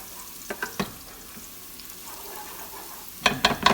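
Onion frying in a non-stick pan, a faint low sizzle with a few soft stirring scrapes early and a louder cluster of spoon knocks and scrapes at the end.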